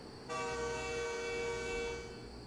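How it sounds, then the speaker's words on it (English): Sustained train horn from a passing train in the trucking game American Truck Simulator, one steady blast of about two seconds that starts abruptly over a low rumble, then fades out. "There's that train again."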